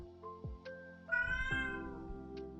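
A pet cat meows loudly several times at close range, with drawn-out, rising-and-falling calls and no other voices.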